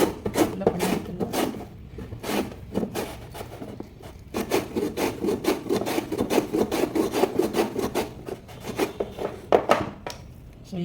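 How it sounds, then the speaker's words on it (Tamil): Elephant foot yam is sliced on a handheld vegetable cutter, producing a rapid series of close, rasping scrapes in uneven bursts that build into a steady back-and-forth rhythm before trailing off. "இது ஒரு வெஜிடபிள் கட்டர் என்கிட்ட இருக்குது, அதில் நான் பண்ணுறேன்"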